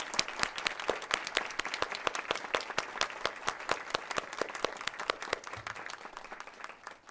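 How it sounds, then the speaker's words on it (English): Board of education meeting audience applauding students: many distinct hand claps in a brisk, fairly steady patter that continues for several seconds and thins slightly toward the end. "Would you please give a round of applause to our wonderful students?"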